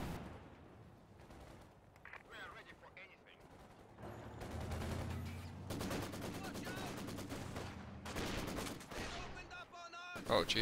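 Machine gun fire in a strategy video game on the Talisman side, sustained rattling bursts layered with explosions and battle noise, while a commentator talks over it.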